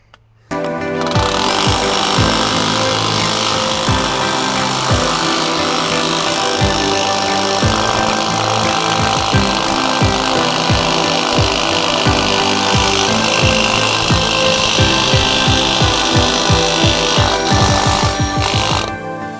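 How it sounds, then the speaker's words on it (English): A hammer drill fitted with a Quick-E-Hammer bit drives a spike through a hybrid edge restraint tine, a loud, steady rapid hammering that runs for about seventeen seconds before stopping, with no talk. "I would recommend hitting it in with our hammer drill, with our hammer bit."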